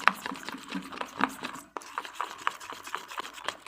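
Hand sanitizer gel being mixed by hand, with soft, quiet, irregular stirring and scraping strokes in a bowl, closely heard and repeating unevenly.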